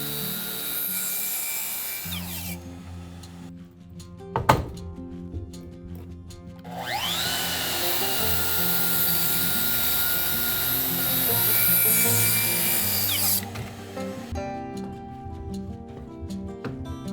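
A miter saw cuts straight-grain cedar for a window frame, spinning up and holding a loud, whirring cut for several seconds before winding down. A sharp knock comes earlier, and quieter motor hum sits on either side.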